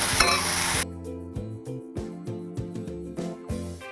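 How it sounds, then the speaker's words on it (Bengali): Vegetables with turmeric stirred and cooking in a pan, a loud sizzling burst at first, then softer sizzle with rhythmic stirring scrapes and a steady background hum, no talking. "এবার একটু ঢাকা দিয়ে একটু নাড়াচাড়া করবো, ঢাকা চাপা দিয়ে একটুখানি রান্না করবো"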